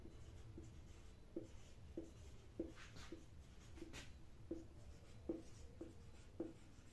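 Pen scratching across paper as a sentence is written by hand, a string of soft rhythmic strokes and taps close by over a low background hum, with no talking.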